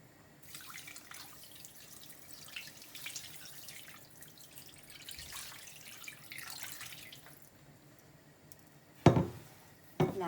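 Water running from a tap and dripping as it is poured over couscous for a couscous royal, a steady soft trickle with a couple of sharper splashes near the end.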